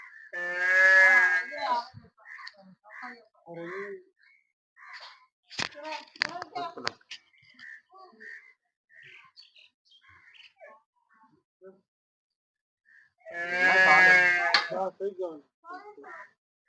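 Jersey cows at a farm for sale low twice, one long moo at the start and another near the end, loud and close, with people talking quietly in between.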